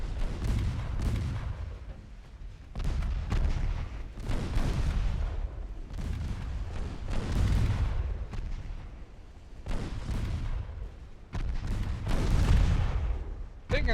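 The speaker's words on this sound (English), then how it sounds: "4-inch barrage." A barrage of 4-inch naval guns in the warship game Ultimate Admiral Dreadnoughts, with repeated heavy booms and rumbling blasts rolling one after another for the whole stretch, loud and dense.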